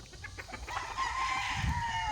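Chickens cluck and call up close on a rural lot, a run of short clucks followed by a longer, drawn-out cry, with faint outdoor background noise.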